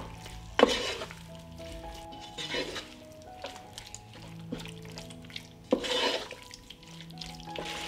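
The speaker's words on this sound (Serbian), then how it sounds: "Zatim dodajem meso i sve ću ovo pržiti zajedno 5 minuta." Meat sizzles with paprika in a pan, a soft steady frying hiss broken by a few louder stirring scrapes and clinks of a utensil against the pan, near and quiet.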